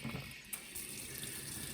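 Hot water runs from a tap for a cup of noodles, a steady faint hiss and splash with a small clunk partway through.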